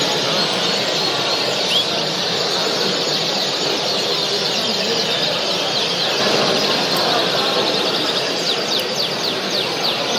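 A dense, continuous wash of many birds squealing and chirping together at a huge indoor bird show, loud and unbroken throughout, with faint voices mixed into the din.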